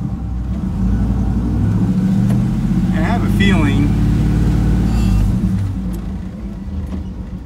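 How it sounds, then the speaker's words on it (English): A vehicle engine with its exhaust moved out the side and a recently clogged fuel filter, heard from inside the cab as a steady loud low drone that swells slightly, with a person talking over it. "Ever since I moved the exhaust out the side, it's a lot quieter in the cab."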